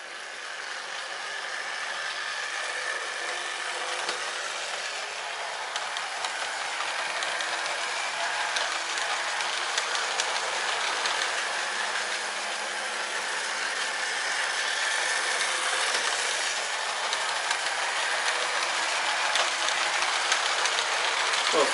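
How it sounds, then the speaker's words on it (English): Model trains pulling Lima coaches run along a model railway track, giving a steady, continuous rolling whir and rattle that swells slightly toward the end, with no talking. "So now we'll show you some trains moving, just to give you an idea of how it goes."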